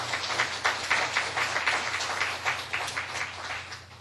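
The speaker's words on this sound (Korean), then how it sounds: "박수 부탁드립니다" Applause from a conference audience welcoming a guest, a sustained crackle of many hands clapping in the room with loose rhythmic swells, moderately loud and without speech.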